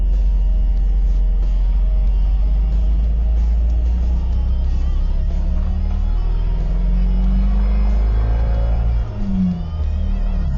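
A GAZ-31022 Volga Komandor car heard from inside as it drives slowly around a small roundabout to turn back. A steady low engine rumble and road drone continue throughout, with a slight shift in engine note toward the end.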